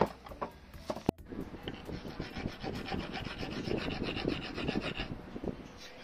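Grinding the stator of a scooter hub motor gives a steady abrasive rasp that carries through the whole stretch. One sharp click lands near the start, and no one speaks.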